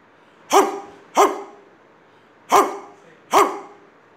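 Four sharp, dog-like barks in two spaced pairs, loud and close, with silence between; a human voice imitates a dog as part of a comic performance.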